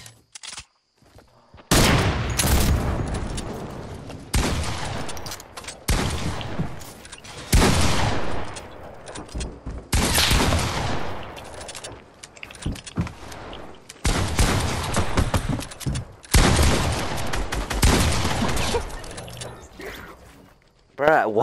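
Fortnite gunfire crackles in repeated bursts of rapid shots, loud and close, some sustained and others short, with brief pauses between the volleys and voices talking over parts of it.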